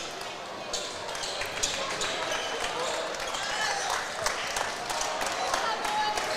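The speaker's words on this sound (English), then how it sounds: "it's just great to hear those fans clap for you" Basketball fans clap in a high school gym during a game between Columbian and Norwalk, scattered claps and crowd noise mixed with sharp ball bounces and squeaks, under nearby talk.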